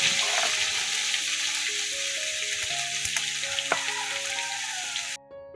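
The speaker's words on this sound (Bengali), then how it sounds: "এই তো মশলাটা ছেড়ে দিলাম।" Spice paste with kalonji seeds sizzles loudly in hot oil in a pan, a dense continuous crackle with faint stirring, cutting off abruptly near the end.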